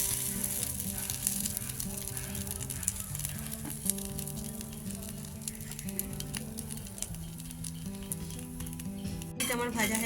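Swarupithe pitha frying in oil in a pan, a continuous close sizzle with occasional utensil scrapes and clinks, and a voice speaking faintly over the cooking.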